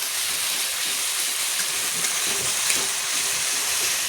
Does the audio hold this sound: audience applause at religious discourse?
no